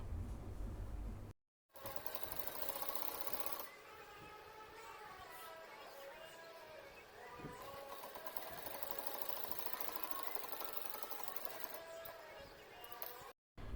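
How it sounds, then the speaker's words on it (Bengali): Sewing machine stitching the side pocket seam of a kurti, with a whirring motor run that pauses briefly and then resumes under soft background noise. "আর এখন আমি এই পার্টটাকেও একই নিয়মে সেলাই করব।"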